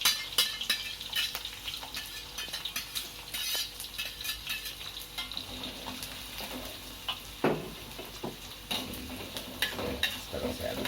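A chili, shallot, garlic and lemongrass spice paste sautés in a pan while a utensil stirs it, giving a soft continuous sizzle with repeated scraping and clinking taps against the metal.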